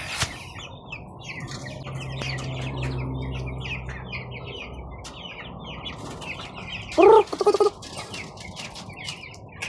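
Chickens in a homemade coop cluck and chirp at close range in scattered calls over a low background hum, with a loud squawking burst near the end.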